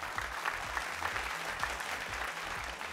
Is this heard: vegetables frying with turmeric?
no